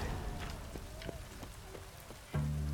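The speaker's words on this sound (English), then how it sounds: "It's raining." Rain patters steadily on surfaces in The Witcher 3: Wild Hunt, a soft continuous hiss with scattered drops, then a louder low rumble swells in near the end.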